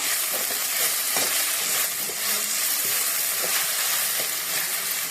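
Garlic, onion and ginger-garlic paste frying in hot oil in a pan, giving a steady, close, continuous sizzle with faint crackles throughout and no talking.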